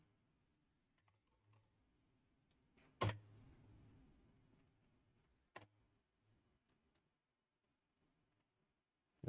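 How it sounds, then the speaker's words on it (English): A few sparse computer keyboard keystrokes, with two sharp clicks standing out, in a quiet room during a live day-trading session. "I have to remember to take it easy with the typing."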